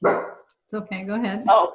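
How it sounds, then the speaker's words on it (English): A dog barks in a backyard, a burst of loud barking at the start, then someone speaks calmly over fainter sounds as the barking gives way to talk. "that's a dog."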